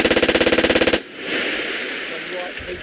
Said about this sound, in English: the heat, the terrain and the chance to fire live ammo make it a perfect training ground